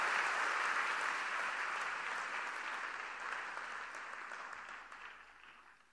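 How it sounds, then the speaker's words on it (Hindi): An audience in Varanasi applauds to welcome the Prime Minister at a school inauguration event, with sustained hall-wide clapping that gradually fades out over several seconds. "आपकी तालियों के प्रणाम के साथ"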